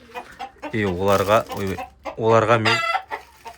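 Clucking fowl calls from a home chicken coop where young chicks are being fed, two loud close vocal bursts with a person speaking briefly alongside.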